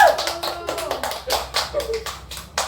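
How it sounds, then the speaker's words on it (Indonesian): Clapping from a group of students in a classroom after a teaching game, several bursts of hand claps and taps, close and fairly loud, with children's voices mixed in. "Tepuk tangan dong untuk kelompok"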